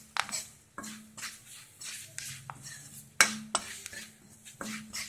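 Ground pepper powder stirred into a pan while making pepper rice, with scraping and clinking of a utensil against the pan at an irregular pace and a faint sizzle underneath, close and moderately loud.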